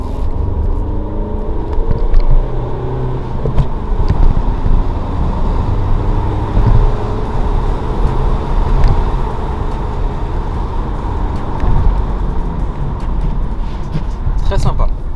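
A Volkswagen Arteon with an automatic gearbox pulls forward under light acceleration, its steady engine and road rumble heard from inside the cabin while people talk over it.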